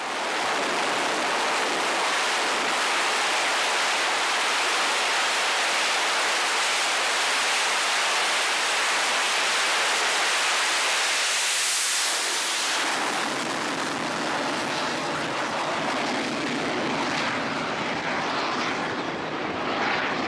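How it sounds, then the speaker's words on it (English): A military jet launches from an aircraft carrier deck at full thrust, a loud, sustained roar that swells to a sharp peak midway, then recedes into a rumbling wash as the aircraft pulls away. "This jet taking off from an aircraft carrier using full thrust"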